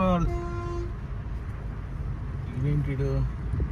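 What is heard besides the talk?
state RTC bus passing with horn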